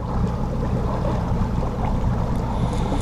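A fishing boat idling on the water, with a continuous low engine rumble mixed with the wash of water around the hull, steady and close throughout.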